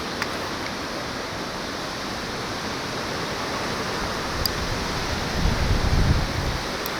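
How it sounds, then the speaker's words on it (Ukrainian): Steady wind blows outdoors, a constant broadband rush with a low gusty rumble swelling near the end; no voices are heard. "Вітер заважає."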